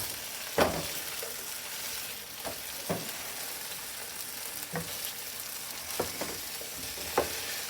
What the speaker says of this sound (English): you make sure that the potatoes are properly stirred